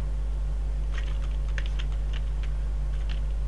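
Computer keyboard keys tapped in quick irregular bursts while playing QWOP, crisp clicks close up over a steady low electrical hum.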